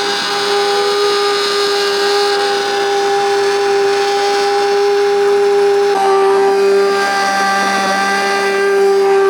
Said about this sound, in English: run my immersion blender through it just to kind of break up all those blueberries